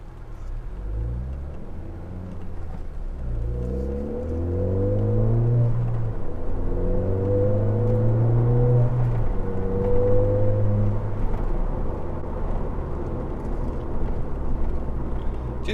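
A Mountune-tuned Ford Fiesta ST cruises on Sunday roads, its engine rumbling from inside the car and rising through the gears as it accelerates steadily.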